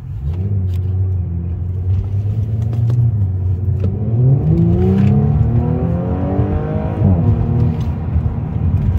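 A 2018 B9 Audi S5 with new spark plugs accelerates on the road, a steady engine drone rising into a climbing, strong rev sweep before easing off, heard from the cabin without speech.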